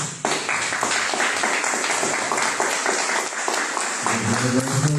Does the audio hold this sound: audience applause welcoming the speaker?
yes